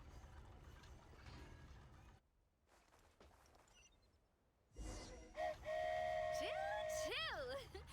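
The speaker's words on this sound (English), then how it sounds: "Choo-choo! Aerial Express moving out." The flying Aerial Express train in Genshin Impact departs, with a rumbling start followed by loud whistle-like sliding tones over music and game effects, and a voice talking in the background.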